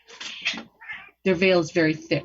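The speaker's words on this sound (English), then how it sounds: "Sorry guys, that's the cat." A pet cat named Zuko meows indoors, a short plaintive cry heard between stretches of someone talking nearby.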